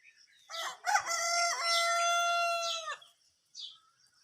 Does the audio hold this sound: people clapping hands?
no